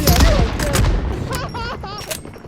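Gunfire in PUBG Mobile during a heavy-weapons mode, a loud close burst of shots at the start followed by a few sharper cracks, with voices chattering over the action.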